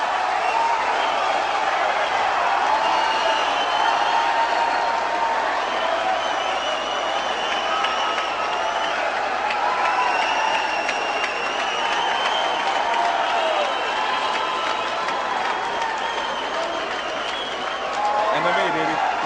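A dense, roaring crowd cheers and applauds at an MMA fight, a steady wall of noise from a large arena crowd that holds throughout, with a commentator's voice talking over it.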